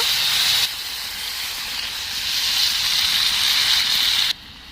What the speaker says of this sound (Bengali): পরিমাণ মতো লবণ জল দিয়ে ঝল ঝোলটা আমি ফুটিয়ে নেব